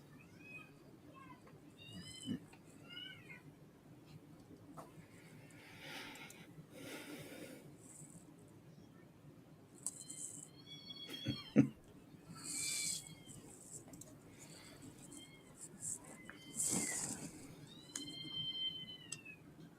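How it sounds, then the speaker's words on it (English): Cats yowl and meow in rising, wavering cries while playing, scattered across a quiet stretch with soft snorts and breathy noises between them. "I think a cat's strangling a cat."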